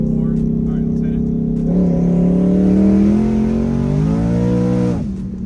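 1000hp drag car accelerating hard in third gear on a street, engine roaring loud and close with rising pitch as revs climb, then easing off abruptly near the end, with someone talking.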